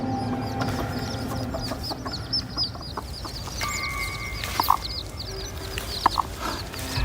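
A mother hen and her chicks are close by: the chicks give a steady run of high peeping and the hen makes a few low clucks over a dull outdoor background.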